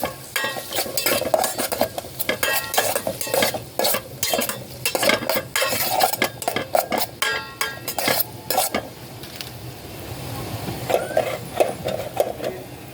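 Garlic and onion are stirred in hot oil for octopus adobo, with rhythmic scraping and clinking of a utensil against the pan over a soft sizzle, close by and without speech.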